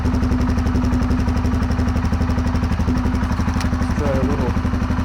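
A Royal Enfield Himalayan motorcycle fitted with a new aftermarket muffler idles steadily, a loud, close, even thumping putter with a slightly deep tone and no talking.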